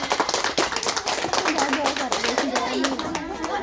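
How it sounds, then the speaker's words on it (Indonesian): Audience at a school orientation event clapping for a student singer, a busy patter of many hands mixed with crowd chatter throughout. "Kita berikan tepuk tangan."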